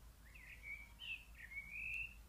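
Small birds chirping and tweeting outdoors, several short bright calls in sequence over a low steady background hum, moderately faint and without any talking.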